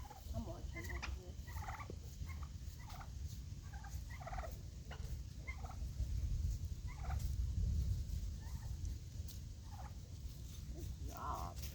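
Turkeys gobble repeatedly in short bursts over a low, rumbling outdoor background while they herd a border collie, the calls moderately near and scattered throughout.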